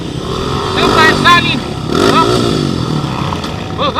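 An enduro motorcycle at the 4th ADIVAY Moto Enduro Challenge 2025 revs loudly and close, its engine rising and falling in repeated bursts while people talk excitedly over it.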